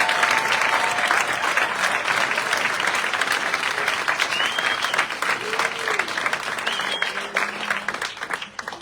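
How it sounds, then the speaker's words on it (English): Steady applause from an audience at a military retirement ceremony, dense clapping throughout with faint voices and murmurs mixed in. "Please join me in a round of applause for our newest"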